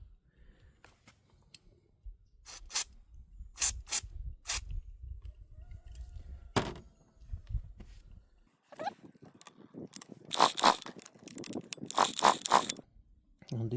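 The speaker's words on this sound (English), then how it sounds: "Let's shoot some brake cleaner." Short bursts of brake cleaner aerosol hissing onto a grass trimmer that won't run, several quick sprays in a row among clicks and handling of the small engine, fairly close and moderately loud.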